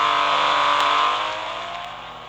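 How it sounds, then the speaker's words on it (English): A 2016 Porsche 911 Carrera S engine revs in the Real Racing 3 video game, giving a loud, sustained, steady tone that fades slightly toward the end. "Up next is my 2016 Porsche 911 Carrera S."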